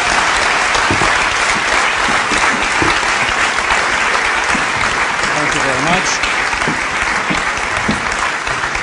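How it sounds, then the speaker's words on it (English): Sustained audience applause for a panel at a green energy event, dense and even clapping filling the whole stretch at a steady level, with faint voices underneath. "please give them a great big round of applause for that wonderful context"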